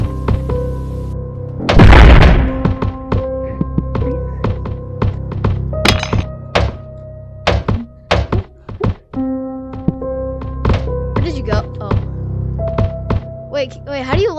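Cannon in the Lab Monkey video game firing a rapid series of hollow thunks, loud and close, including one heavy boom early on, with a voice talking over the shots.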